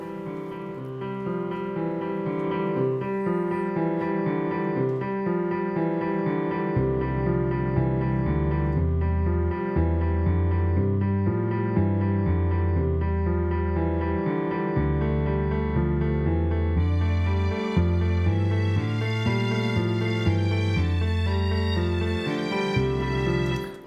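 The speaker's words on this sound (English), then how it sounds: "I have a piano, I have a bass, and I have some strings coming in, basically just the violins" MIDI playback of a piano, bass and violin strings arrangement plays steady sustained chords with a low bass line, and brighter violin strings join in near the end. The music is loud and alone, with no voices.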